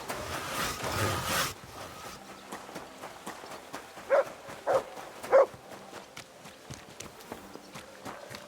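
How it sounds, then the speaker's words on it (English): Three short dog barks spaced about half a second apart ring out in Kingdom Come Deliverance 2, following a burst of rustling and hoofbeat-like noise, over a quiet outdoor game ambience. "You silly doggy"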